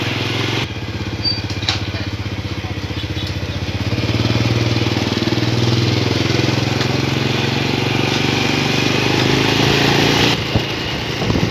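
A motorcycle engine runs steadily up close, a constant mid-pitched rumble that swells slightly partway through and then cuts off near the end.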